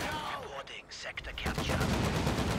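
MP40 submachine gun fire from pioneer troops in a WWII real-time strategy game, heard as clusters of rapid distant shots mixed with battlefield noise, with a commentator's voice talking over it.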